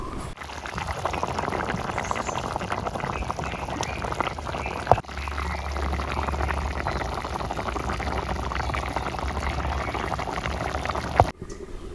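Jiol fish curry with onion and green chilli simmers in a covered pot, giving a steady, close bubbling hiss. Two brief clicks punctuate it, and there is no talk.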